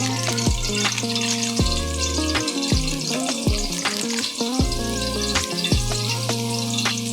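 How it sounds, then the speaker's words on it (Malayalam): Garam masala and meat masala powder fry in a pan while being stirred, giving a steady, loud sizzle with scraping strokes, with background music running underneath throughout. "ഇതെല്ലാം കൂടെ മിക്സ് ചെയ്ത് ഇതിൻ്റെ പച്ചമണം ഒന്ന് മാറിയതിൻ്റെ ശേഷം"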